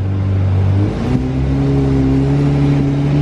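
A Lamborghini engine drones loud and close, its pitch dipping briefly then climbing steadily as it revs in first gear while rolling slowly, a continuous throaty roar throughout.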